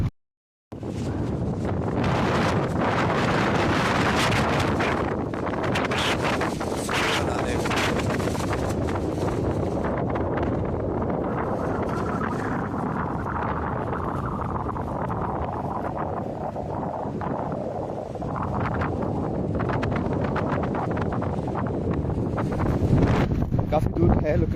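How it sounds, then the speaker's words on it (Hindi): Strong wind blasts across a steep mountain path, a loud, continuous roar buffeting the microphone for the full length with only slight swells and dips. "ये देखो कितनी तेज हवा यहाँ पे है"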